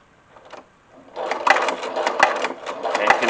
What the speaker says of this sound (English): lower my presser foot so I can stitch up the other side